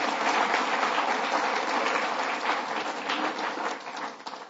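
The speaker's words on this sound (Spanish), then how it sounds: "Ese aplauso es para Dios" A church congregation claps together in a dense, sustained round of applause inside the sanctuary, loud and even at first, then tapering off toward the end.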